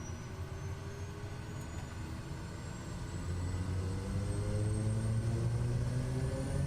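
Aircraft engine in Microsoft Flight Simulator 2024 spooling up for takeoff, a steady drone that grows louder partway through as rising engine tones climb in pitch, heard alone without talk.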